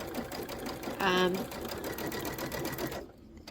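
Sewing machine piecing quilt fabric with a small stitch length, a fast steady stitching whir that swells briefly and then cuts off near the end, heard under ongoing talk.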